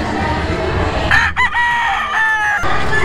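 A Kelso gamefowl rooster with a straight comb crows once, loud and close, in a busy game farm sale hall at a convention centre, with crowd noise and talk behind it.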